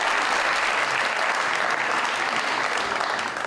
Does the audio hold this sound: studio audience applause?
yes